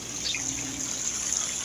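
Water running like a small creek beside a chicken farm, a continuous soft trickle and gush close by, with no talk.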